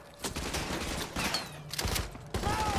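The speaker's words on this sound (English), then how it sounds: "Who's shooting me?" Rapid gunfire from an enemy shooting at the player in Call of Duty Modern Warfare 2 Remastered, a loud, dense run of shots with brief gaps, mixed with game effects.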